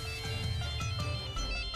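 A phone rings with an electronic ringtone in a household scene from a Hindi TV drama. The melodic tone is steady and fairly clear, playing on its own with no talking.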